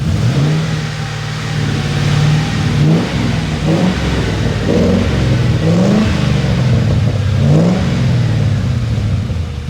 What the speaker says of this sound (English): Put it under load and it misfired hard.